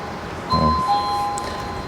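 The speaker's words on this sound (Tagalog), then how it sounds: "Nagkabit na rin tayo ng doorbell." Doorbell chime rings once with two clear electronic tones, close and loud over a quiet room hum.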